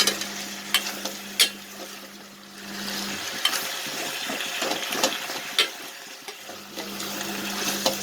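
Radish sizzles and crackles as it sautés in a pan, with occasional stirring scrapes and clinks, while a low motor hum comes and goes underneath.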